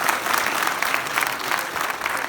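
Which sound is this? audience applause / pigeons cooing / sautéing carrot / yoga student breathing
audience applause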